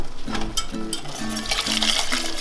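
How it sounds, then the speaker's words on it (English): Water pours and trickles into a risotto pot of arborio rice, a steady liquid splash with faint tonal clinks, heard alone and fairly close. "This is when we're gonna add our water"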